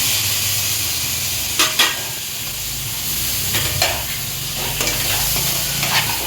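Chopped tomatoes stirred into green chillies frying in a pan, a steady sizzle with a few louder scraping stirs breaking through.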